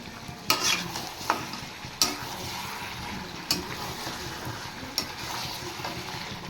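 Spicy mutton curry with freshly added chopped tomatoes sizzles steadily in hot oil in a pan, while a spoon scrapes and clanks against the metal every second or so.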